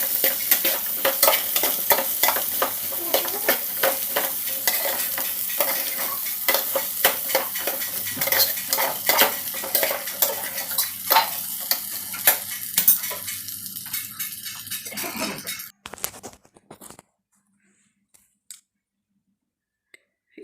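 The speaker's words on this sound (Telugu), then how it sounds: "ఒకసారి గరిటె తీసుకొని బాగా కలియబెడుతూ ఉండండి ఇలా" Chopped okra frying in a pan is stirred briskly with a metal ladle, a rapid string of scraping clinks over steady sizzling for about fifteen seconds, then near silence.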